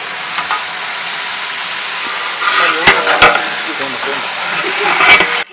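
Mushrooms sautéing in hot oil with a sprinkle of salt make a loud, continuous sizzle, with stirring scrapes and a few sharp clacks of a utensil against the pan partway through.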